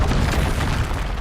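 Confringo blasting curse explosion in Hogwarts Legacy, a dense, rumbling boom with crackling bursts that sustains at steady loudness for its full length, with no voices.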